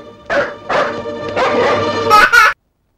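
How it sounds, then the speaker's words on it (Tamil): A dog lets out several loud, close barks and whiny yelps in quick succession, then falls silent. "4-5 நாயை கட்டி வச்சு கொலைக்க விட்டு கஞ்சி ஊத்துறியா?"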